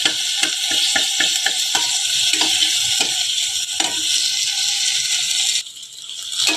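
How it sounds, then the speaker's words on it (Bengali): Masala spices frying in a pan for brown rice biryani, a steady loud sizzle with a regular scraping clatter of a spatula stirring, close up with no voices. "এই দেখো আমি মশলাটা ভেজে নিয়েছি, আর একটু ভালো করে ভাজবো।"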